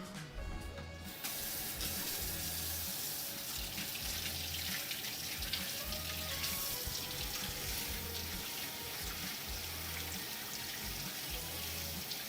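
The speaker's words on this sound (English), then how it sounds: "Give these a quick rinse off." Potatoes rinsed under a running kitchen tap, a steady close rush of water splashing into the sink after a short quiet start.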